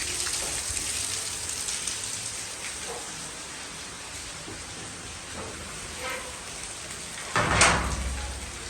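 Heavy outdoor rain pours steadily on a morning downpour, a dense continuous hiss broken by a few soft taps and one louder thud near the end, with no voices.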